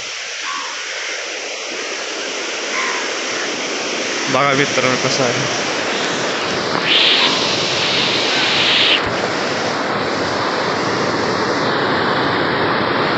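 A fast, high-pressure stream rushes below a bridge, making a loud, steady broadband roar that fills the whole stretch, with someone speaking briefly over it partway through.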